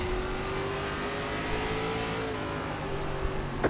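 ARCA race car engines in the iRacing video game at Lanier, a steady high-pitched engine drone with shifting pitch as cars run close together, loud and continuous without talk.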